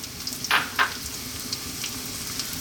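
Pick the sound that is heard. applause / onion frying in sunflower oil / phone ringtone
onion frying in sunflower oil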